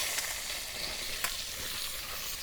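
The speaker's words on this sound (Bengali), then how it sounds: "আলুগুলো ভাজা হয়েছে," Potato pieces frying in oil seasoned with turmeric and salt give a continuous close sizzle and bubbling crackle, with a couple of brief stirring knocks and no talking.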